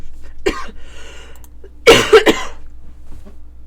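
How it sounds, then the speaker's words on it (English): A person coughs several times in close succession, first a single sharp cough, then a louder cluster of harsh coughs, in an otherwise quiet indoor room. "When is this cough going away?"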